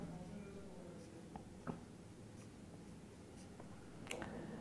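Handwriting on paper during a geometry lesson, soft scratchy pen strokes with a few sharper taps, faint and close against a steady low room hum.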